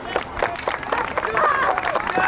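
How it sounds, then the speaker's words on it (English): Crowd at a school annual sports day, Marian School Barpeta Road, giving a round of clapping, a dense patter of many hands with murmuring voices mixed in, steady and fairly close throughout. "Give a clap."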